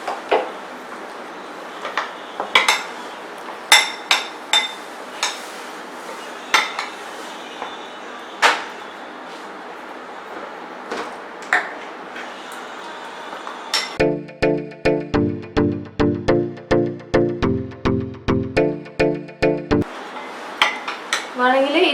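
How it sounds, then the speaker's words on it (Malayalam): Potato cheese batter is mixed with water in a bowl, with sharp clinks and scrapes of a utensil against the bowl, scattered at first and then a fast, regular burst of stirring taps. "കുറച്ചായിട്ട് വെള്ളം ഒഴിച്ചിട്ട് ആവശ്യത്തിനുള്ള വെള്ളം ഒഴിച്ച് നമുക്കിതൊന്ന് മിക്സ് ആക്കി എടുക്കാം."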